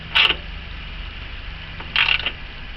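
A ratchet turns the bottom 14mm bolt of a Honda Rebel rear shock in two short, close bursts of quick clicking, separated by a pause with faint background hum.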